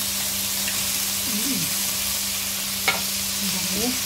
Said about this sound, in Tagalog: Magawa natin lagay ang sardinas. Yan, kulay brown na siya. Konting mantika lang.